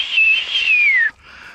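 A single human whistle, made while out fishing for Murray cod, sounds clear and close, holds a steady note and then glides downward before breaking off, leaving faint background noise.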